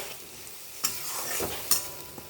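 A spice paste of chilli, cumin and turmeric powders with a little sugar fries in oil for a taro (gathi kochu) curry: a steady close sizzle broken by two sharp stirring scrapes.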